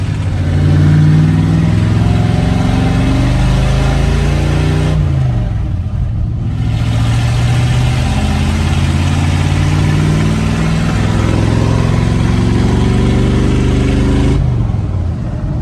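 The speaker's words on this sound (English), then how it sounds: "Say it sounds really good, that higher RPM." A truck engine runs steadily at raised RPM for the whole stretch, a loud, continuous low mechanical drone with a brief dip in the middle before it resumes, and no talking over it.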